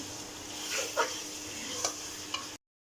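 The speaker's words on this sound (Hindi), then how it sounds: "चिकन को अच्छी तरह भून लेंगे।" Chicken being stir-fried in masala in a pan, a short stretch of soft constant sizzling with a few spatula scrapes, close but fairly quiet, no talking.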